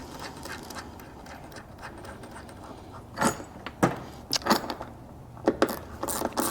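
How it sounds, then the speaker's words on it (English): A hand ratchet turning M6 roof rack bolts on a Land Cruiser 200 Series, several sharp clicking bursts close by in the second half over a low background hum. "Couple of turns with the ratchet just to get it seated."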